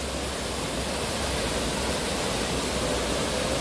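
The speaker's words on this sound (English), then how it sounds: "I do love this waterfall back here." Waterfall in a gorilla habitat at Disney's Animal Kingdom, a steady broadband rushing roar of falling water, loud and unbroken with no voices.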